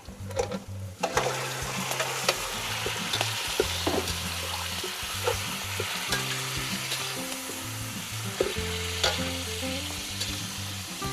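Native chicken pieces sizzling in a pan of sautéed aromatics, a loud continuous frying hiss with repeated stirring clatter and scraping throughout, up close and without speech.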